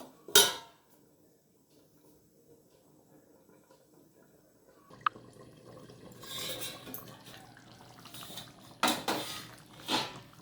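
A lid is set over a pot of simmering desi chicken: a sharp metallic clank, then quiet, then another clink and rattling pot and lid sounds with faint bubbling liquid.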